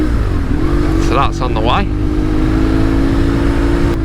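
A BMW R 1150 GS Adventure motorcycle fitted with an aftermarket exhaust pipe idles with a steady, loud engine drone while someone speaks briefly over it.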